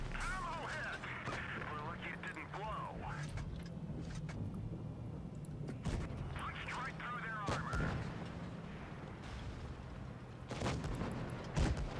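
Tank cannon shots in the World of Tanks Blitz video game: a few sharp, booming shots over engine rumble and game effects, while people talk throughout.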